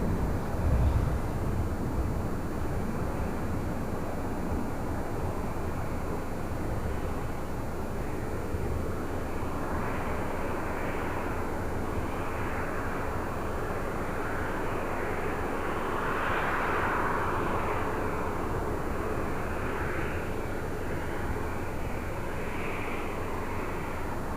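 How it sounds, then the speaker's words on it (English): An Airbus A380 on Munich flight 452 arrives at LAX, a steady broad jet roar heard from a distance, mixed with wind noise, holding level throughout with a faint swell toward the middle. "Again, this is flight coming in from Munich, flight 452. Our third A380 arrival of the stream here today."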